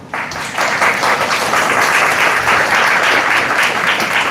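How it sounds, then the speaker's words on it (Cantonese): An audience at a memorial prayer service breaks into dense, sustained applause that starts abruptly and holds at a steady, loud level throughout. "俾啲掌聲我哋嘅神。"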